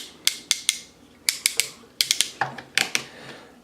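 Ratchet joint on the arm of a Transformers Power of the Primes Elita-1 Voyager Class toy, sharp close clicks in short bursts of two to four, separated by brief pauses.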